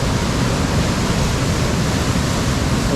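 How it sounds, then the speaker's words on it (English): Waterfall at Finch Hatton Gorge roaring nearby, a loud, dense and unbroken rush of falling water with no voices. "So this is the actual waterfall."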